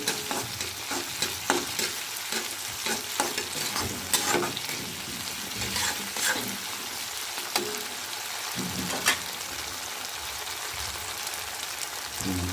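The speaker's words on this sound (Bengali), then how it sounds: "এবার ভালো করে এটাকে নেড়ে নেবো।" Gourd with lentils and egg being stirred in a frying pan, a steady close sizzle with repeated scraping and tapping of a spatula against the pan, continuous and without talk.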